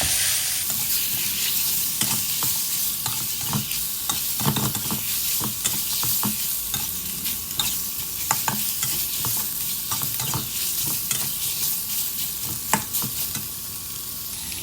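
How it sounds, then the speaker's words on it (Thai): Pork cartilage stir-fried with southern Thai curry paste, kaffir lime leaves and fingerroot in a hot wok, a steady loud sizzle broken by repeated scraping and tossing strokes of the spatula throughout. "ผัดผสมคลุกเข้าให้เข้ากันนะครับ"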